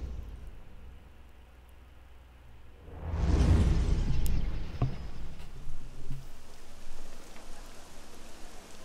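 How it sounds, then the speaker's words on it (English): Rain sweeps in suddenly in Assassin's Creed Unity, a soft hiss that swells from quiet ambience into a steady, fairly faint patter of falling drops, with a couple of small clicks and no talk. "And it's suddenly raining."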